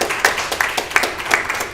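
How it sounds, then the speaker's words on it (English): Sparse, steady clapping from a small audience at a live-streamed LSU event, each clap distinct and evenly spaced in a quick rhythm, moderately close with no talk. "Let's give Rohan a round of applause."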